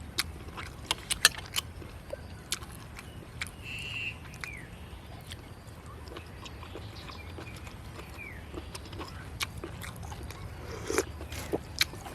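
Crunchy chewing of food, beef dishes with vegetables and dipping sauce, heard up close as a series of sharp bites and crackling crunches over a low background.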